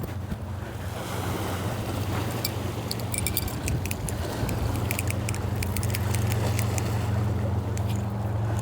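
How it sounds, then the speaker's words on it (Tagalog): Strong waves and surf wash steadily on open water at a windy fishing spot by a campground, with loud wind buffeting the microphone throughout and occasional splashes. "Sobrang alon."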